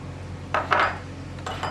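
A spoon mixing sugar and cream in a bowl for vanilla ice cream, giving a few brief scrapes and light clinks against the bowl over a low steady background hum.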